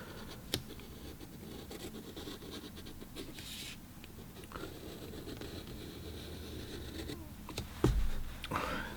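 A pencil scratches steadily across watercolor paper while a vase is sketched, making a soft, close, continuous scraping with occasional sharper strokes and small taps.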